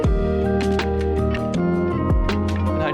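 A lofi drum fill built from snare hits, a tom and a crash plays in a quick busy rhythm over sustained chords and a booming low bass, loud and with no talking.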